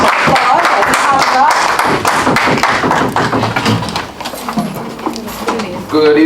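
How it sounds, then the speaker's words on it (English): A round of applause at an evening Toastmasters meeting welcomes the raffle seller: steady, dense clapping from the audience fills the room, with voices speaking over it throughout. "Let's give him a round of applause."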